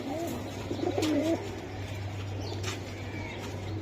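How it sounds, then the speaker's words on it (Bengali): A Benaras pigeon gives a soft, low cooing call near the start, over a steady background hum. "এই একটা বেনারস কবুতর"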